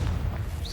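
A Confringo fire spell blast in Hogwarts Legacy, heard as a brief, low, booming burst with a faint whoosh, sitting close and loud over game ambience.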